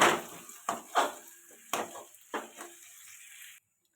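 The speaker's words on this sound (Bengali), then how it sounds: "এটা ভালো করে কষিয়ে নেব।" Fried chillies being stirred and sautéed in a pan, giving about six distinct scraping strokes with a faint sizzle underneath, close and fairly loud, before the sound cuts to silence.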